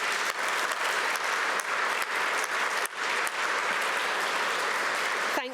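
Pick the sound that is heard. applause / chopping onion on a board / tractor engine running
applause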